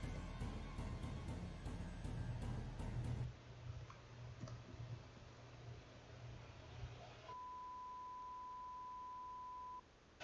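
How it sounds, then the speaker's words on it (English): Test beeps from unused game content in Bendy and the Ink Machine: a steady pure electronic tone holds for a few seconds alone after a stretch of low rumble and faint clicks. "these are just test beeps"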